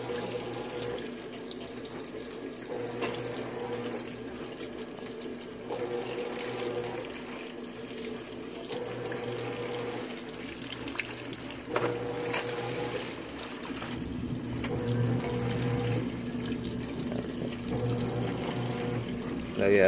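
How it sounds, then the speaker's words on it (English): Water sprays steadily inside a GE top-load washing machine during its spray rinse while washing jeans and shorts, a continuous hissing rush at close range with a faint voice now and then. "I want to show off the spray rinse again"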